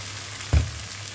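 Tomatoes roasting on a hot tawa griddle give a soft, steady sizzle and hiss, broken by one brief dull thump midway, with no talking.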